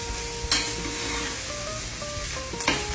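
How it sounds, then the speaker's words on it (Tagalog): Pepper is stirred into food sizzling in a pan, with a continuous close frying hiss, a utensil scraping and clinking a couple of times, and faint tonal hums behind it. "Lagay lang tayo ng pepper. Para may konting anghang. Pero anghang na yan. Ayan. Haluin lang natin siya."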